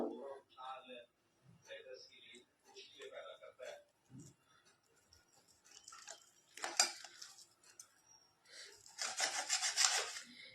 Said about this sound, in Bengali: এবার আমি কেটে নেব। আমার ছুরিটা ধার নেই ভালো।